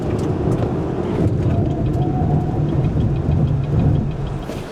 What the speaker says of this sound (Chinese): 起步是很温柔的，可是一中段加速，